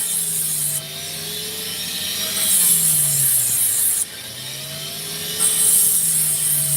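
Opal stone being ground on a motorized grinding wheel, a steady close whir with a rubbing, rasping grind that rises and falls in pitch as the stone is pressed on and eased off, with no talking.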